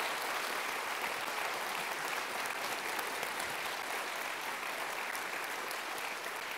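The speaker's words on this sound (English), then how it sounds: "Will you please give them a round of applause for such a great contribution?" Steady, even applause from an audience thanking a panel of guest speakers at an evening Constitution Day forum on Magna Carta in Canberra, dense clapping that holds at a constant level with no voices over it.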